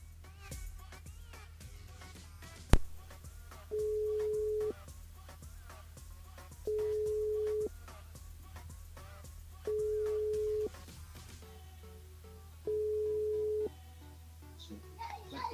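Telephone ringback tone heard while a live French radio show calls a listener's mobile phone: four steady, evenly spaced ring tones, each about a second long, over a low background hum.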